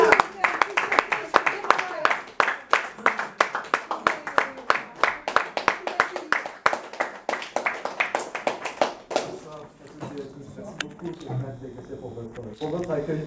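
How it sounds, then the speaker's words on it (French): An audience at a showcase concert at Le Petit Ney applauds Romain, with loud, close, rhythmic clapping for about nine seconds that then fades into murmuring talk. "je vous demande s'il vous plaît d'applaudir Romain"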